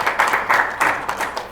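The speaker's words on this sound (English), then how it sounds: "Give him a round of applause." A crowd applauds, a brief wash of clapping hands with a steady, pulsing texture.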